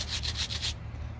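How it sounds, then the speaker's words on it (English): A plastic model car body being scrubbed to strip paint after soaking in paint remover, a close, rhythmic brushing rasp of five or six quick strokes that stops about halfway through, then quiet. "give it a good scrubbing"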